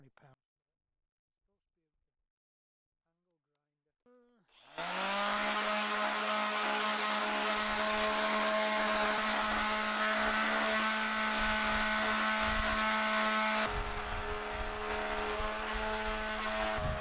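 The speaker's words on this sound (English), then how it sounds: "So I'm going to get the sander on that. I'm going to have to start with something like a 60 grit" An electric sander fitted with 60-grit paper starts up after a few seconds of quiet and grinds steadily across a wooden slab, a loud, constant whirring drone that dips slightly near the end.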